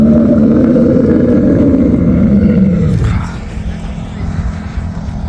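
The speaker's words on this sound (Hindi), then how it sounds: "ये कैमल की आवाज़ है। ये देखें, ये कैमल पीछे शोर कर रहा है।" Camel groaning in the Moroccan desert near Marrakech, a loud, low, rasping bellow heard close that runs steadily for about three seconds, then gives way to quieter rumbling.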